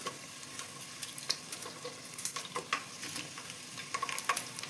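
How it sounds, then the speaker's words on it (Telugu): Dried red chillies crackle in hot tempering oil: a fairly soft, steady sizzle dotted with irregular small pops and light stirring scrapes, with no talking. "4 ఎండుమిరపకాయలు తీసుకొని ఎండుమిరపకాయలు వేసుకోవాలి"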